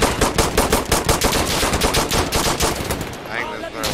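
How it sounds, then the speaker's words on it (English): Minigun fire support in the video game Insurgency Sandstorm: a loud, dense stream of rapid gunfire with evenly spaced bursts, continuous for several seconds before tapering off with a faint voice underneath. "Minigun support at this target."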